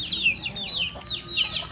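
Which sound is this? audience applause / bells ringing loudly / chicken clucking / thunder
chicken clucking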